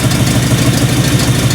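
A car engine idles steadily, a low rhythmic exhaust putter pulsing evenly throughout with no voices.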